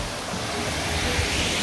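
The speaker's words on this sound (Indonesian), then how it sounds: "Air terjun kedua dari pendakian Gunung Gede." Waterfall on the Gunung Gede hiking trail, a loud, continuous, full rushing roar of falling water with no let-up.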